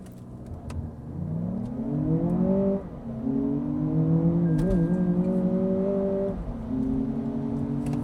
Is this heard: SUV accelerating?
yes